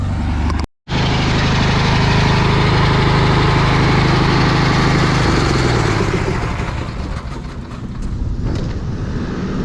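On a farm, an engine-powered blower clears out grain-cart equipment with a loud, steady engine drone and rushing air, which cuts out briefly near the start and then runs on unbroken.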